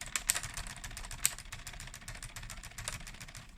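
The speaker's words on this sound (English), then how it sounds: "That's an authentic manual typewriter noise, my friend." Rapid, uneven clacking of keys on a Lego 21327 manual typewriter model, light plastic taps in quick bursts with a few sharper strikes, close and fairly quiet, with no voices.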